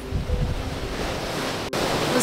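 Rough off-season sea at Sozopol, with steady rushing surf and gusting wind noise, loud and continuous, briefly cut out for an instant.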